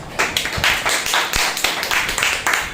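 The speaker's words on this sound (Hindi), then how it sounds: "परमेश्वर के लिए एक बार जोरदार तालियां" A church congregation at a Wednesday service claps together in a loud, steady burst of rhythmic hand claps, close and continuous for a few seconds with no talk over it.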